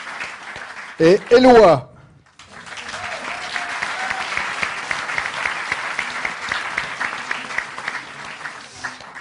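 An audience at the Bobards d'Or 2013 ceremony breaks into sustained applause after a brief spoken name, the clapping steady and dense for several seconds.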